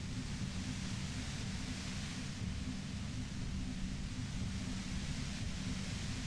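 Steady, even white noise in the Disco Elysium video game, a dense unbroken hiss with a heavy low rumble beneath it, holding at a constant level throughout with no voices.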